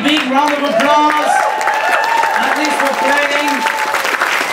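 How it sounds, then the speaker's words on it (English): A cook-off audience at a celebrity chef contest during a wine and food festival claps for the winners, a steady wash of applause running throughout while a voice speaks loudly over it and music-like tones ring along. "Give them both a big, big round of applause."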